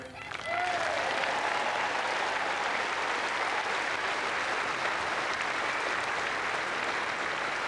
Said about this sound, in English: they've applauded him again today